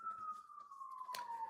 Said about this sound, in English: there's an ambulance going on in the background.